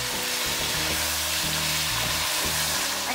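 Washed vegetables dropping into hot spiced oil for a vegetable khichuri, giving a steady, loud sizzle with a low rumbling tone underneath that runs unbroken from start to end.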